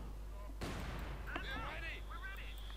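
Mortar fire in Company of Heroes 2, a 1v1 match with British mortar emplacements, gives one sharp loud blast followed by scattered crackling impacts and whistles over a steady low game rumble.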